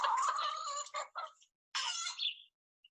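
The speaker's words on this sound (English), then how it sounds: "A chicken makes these sounds." A chicken clucks in two short, close bursts of raspy calls, with a brief silence between them and nothing else heard.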